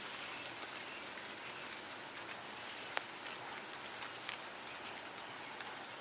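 Light rain patters steadily outdoors in a wooded spot, soft and fairly quiet, with scattered individual drops ticking out from the hiss and one sharper drip standing out midway.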